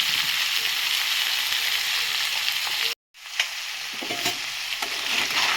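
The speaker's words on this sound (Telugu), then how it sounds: "సిమ్లో వేగనిద్దాం." Small sea crabs frying over low heat in a pan, a steady close sizzle that runs continuously with a brief cut of silence midway and light stirring clicks.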